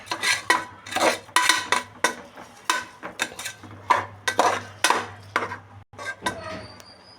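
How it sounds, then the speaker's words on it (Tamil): Rice being stirred in a metal pot while making tomato bath, with repeated scraping and clinking of a spoon against the pot in an uneven rhythm, close and moderately loud. "அரிசி வந்து நல்லா மிக்ஸ் பண்ணிக்கணும்."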